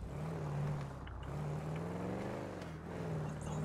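A car drives steadily in a GTA roleplay game, its engine droning with a low, continuous hum and slight pitch shifts, close and fairly quiet throughout.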